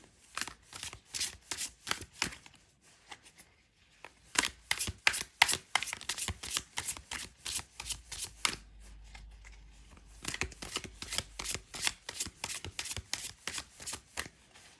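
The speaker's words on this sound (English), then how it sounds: "I'm just gonna shuffle" Tarot cards riffle-shuffled repeatedly in quick bursts of crisp flapping, with short pauses between shuffles; close and fairly loud, no talking.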